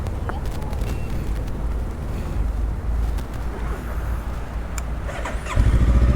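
A car engine sputters and misfires with an uneven low rumble while driving near a flooded road at the San Simon exit, growing louder near the end, with faint voices in the background.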